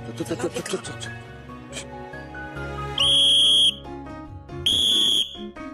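Two loud, sustained shrill whistle blasts, each lasting under a second, follow a stretch of talking and clattering sounds.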